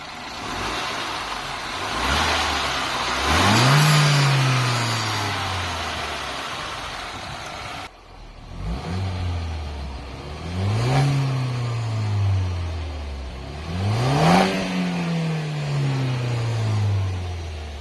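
A BMW 116i petrol engine revs three times, each time rising then falling back toward idle. The runs sit about four seconds apart and are heard fairly close, with no talk over them.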